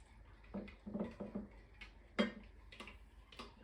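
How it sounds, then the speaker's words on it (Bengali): A spoon stirs coffee made with hot water in a cup, giving a few quiet, irregular metallic clinks and taps against the side, close and faint with soft pauses between. "কফিটা নেড়ে নিই"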